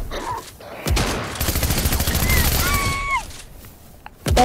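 Rapid bursts of video game gunfire aimed at a tree and bush, a dense loud fusillade lasting a few seconds, with brief voices and sharp game effects around it.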